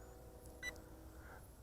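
A single short, high electronic low-battery warning beep from an RC plane chirps once over a low, steady mechanical hum, faint and brief.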